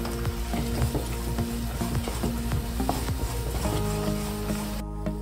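Nuts being stirred into a thick halwa mixture in a pan, with steady sizzling and repeated scraping, clinking stir strokes continuing throughout, close and without talk.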